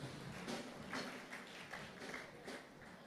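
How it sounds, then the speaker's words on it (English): Audience at an Edo State education board event giving a round of applause, soft scattered clapping with a few sharper individual claps, faint and roomy, fairly steady throughout. "Please, a round of applause."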